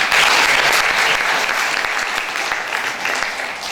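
An audience at an Azerbaijani book signing claps loudly and steadily, a dense, continuous applause from a roomful of people that tapers slightly toward the end.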